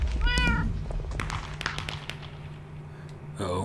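A cat meows in Minecraft Block Hunt, a clear meow near the start and another at the end, over steady low background game noise.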